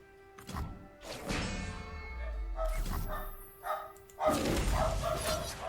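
A dog barks and yips in short bursts during a League of Legends card game session (Legends of Runeterra), loud and close, with harsh crash-like noise mixed in and no speech over it.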